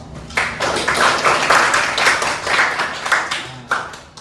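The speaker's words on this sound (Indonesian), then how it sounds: "kita beri aplaus" Applause from an audience in a university teaching session: a steady, dense wash of many hands clapping for about four seconds, fairly close and fully filling the room, with a few sharper claps near the end.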